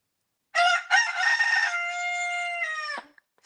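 A rooster crows once, close and loud, a single drawn-out cock-a-doodle-doo lasting about two and a half seconds in an otherwise quiet setting.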